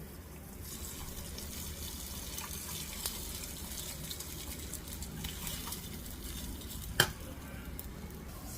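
Soft, steady scraping and rustling of a spoon mixing tempering into mango rice, faint and continuous, with one brief sharper clink near the end.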